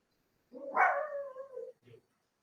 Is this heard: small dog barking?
yes